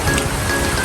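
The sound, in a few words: sudden heavy rain pouring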